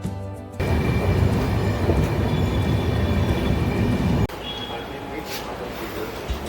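A morning train journey arriving at Jhargram station, with a loud, steady rumble of the carriages that cuts abruptly to a quieter, thinner ambience about two-thirds of the way through.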